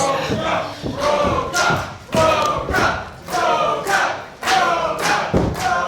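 An indoor wrestling arena crowd roars and chants in rhythmic surges behind a young wrestler, loud swells breaking every second or so with occasional thuds mixed in.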